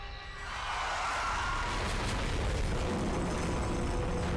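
A small explosion after a bus tips over at a calm gas station in South Park Rally, with a dull boom opening into a steady broadband roar and rumble that holds at a loud, even level.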